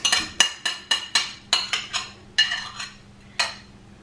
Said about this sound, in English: I'm adding the yoghurt